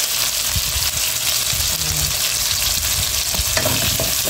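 Ingredients for an Ilocano-style fish pinakbet sautéing in a pan, a loud continuous sizzle with repeated scraping and clacking of a stirring utensil against the pan, close up.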